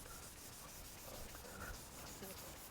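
2000-grit sandpaper wet sanding a scuff on a boat, a steady close rubbing hiss with faint rhythmic strokes.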